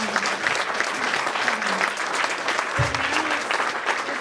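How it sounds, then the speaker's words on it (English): Steady audience applause fills the room at a political breakfast, a dense continuous patter of clapping with faint voices underneath. "We can give you a round of applause"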